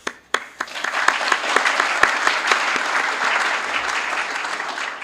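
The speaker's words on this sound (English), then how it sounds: "Probably just keep clapping for a little bit here." A conference audience at BSidesPDX applauds steadily, a dense crowd of clapping hands that starts abruptly and holds strong throughout, with a few louder individual claps standing out near the front.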